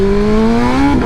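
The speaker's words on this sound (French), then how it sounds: "C'est un 4 cylindres en ligne mais qui te propulse d'une violence." A new inline four-cylinder motorcycle revs hard in a short, loud burst, its engine note climbing steadily in pitch before dropping off abruptly.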